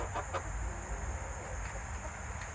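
A backyard flock of chickens, including barred Plymouth Rocks and Sapphire Gems, clucks softly in scattered short calls over steady outdoor background noise.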